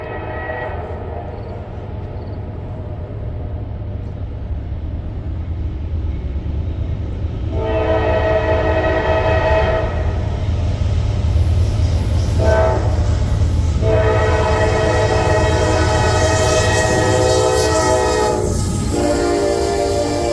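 A Union Pacific C45ACCTE locomotive passes with a loud, continuous rumble of engine and rail noise, and its horn sounds in several long blasts as it goes by.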